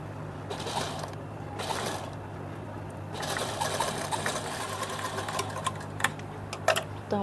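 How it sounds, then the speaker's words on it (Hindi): A domestic sewing machine stitches a top made from leftover fabric, running in short bursts and then a longer stretch, with rattling needle clatter and a few sharp clicks, close by. "अब हम इसके ऊपर भी ठीक वैसे ही सिलाई चला लेंगे"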